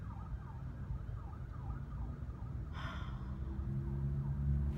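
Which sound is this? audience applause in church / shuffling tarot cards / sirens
sirens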